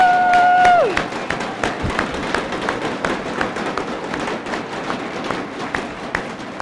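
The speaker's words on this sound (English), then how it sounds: "These undergraduates deserve that round of applause" A university audience claps for undergraduates standing in the room, dense steady applause after a brief sustained tone fades, with scattered cheers mixed in.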